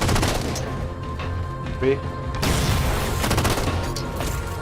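Weapons fire in the video game Halo 4 crackles in dense, continuous bursts, with brief explosive thumps. Someone talks over the shooting.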